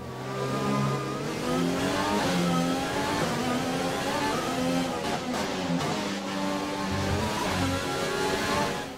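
A Renault engine in an F1 car in the F1 2020 video game revs loudly and steadily, its pitch climbing and dropping through repeated gear changes for about nine seconds with no voices.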